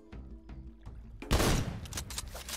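A weapon fires at a barrel in Worms: Clan Wars: a few light ticks are followed by a sudden loud burst of blast noise that stays rough and crackling to the end.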